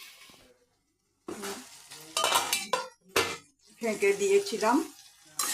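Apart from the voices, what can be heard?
long beans frying and being stirred in pan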